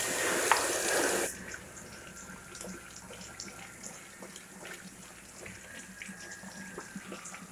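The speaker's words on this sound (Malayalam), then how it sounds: "എന്നിട്ട് കുറച്ച് വെള്ളം ഒന്ന് തുറന്നു വിടാം" A kitchen tap runs water over a closed pressure cooker holding matta rice, opening with a brief loud gush before the flow settles into a softer, steady splashing stream up close, with no voices.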